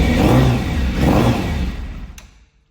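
A Yamaha Fazer four-cylinder motorcycle with carburetor trouble warms up. Two close, throaty revs swell one after the other, then the engine settles and fades toward quiet.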